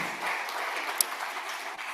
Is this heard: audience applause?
yes